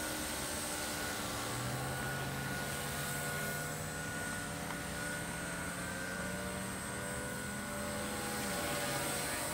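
An RC helicopter hovers gently in place, its rotor and motor giving a steady droning whine with a slowly sliding pitch, continuous and fairly close, with no talk over it.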